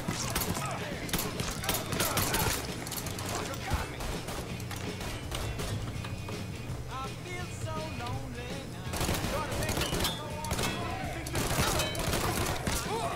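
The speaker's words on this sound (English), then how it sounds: "Fuck is this gun? Sounds like a fucking BB gun" Gunfire in the video game Mafia III, a gun with a light, popping BB-gun-like report, firing in dense rapid bursts over constant busy game noise.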